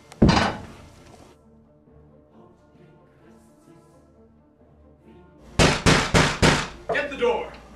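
Knocking on a door: a single heavy thud opens, followed after a quiet stretch by four loud, evenly spaced wooden knocks near the end, with faint voices murmuring in between.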